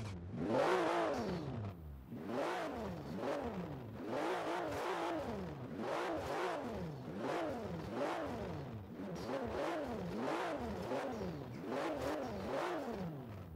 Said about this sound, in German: wir hören uns den Boxermotor auf jeden Fall auch mal an